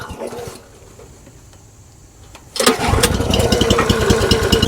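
A small gas engine on a log splitter catches after a quiet pause, jumping from low background noise into a loud, steady running roar close by that holds to the end.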